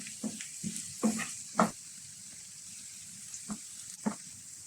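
Thinly sliced onions with garlic and ginger cook in a pan for a crab roast, a low soft sizzle broken by a few scattered spatula scrapes and taps, close and fairly quiet.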